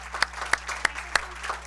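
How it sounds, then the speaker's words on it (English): Clapping at a school board business meeting: four or five sharp, evenly spaced claps in a steady rhythm, close and distinct over a quiet room hum. "big round of applause for Ms. Torres."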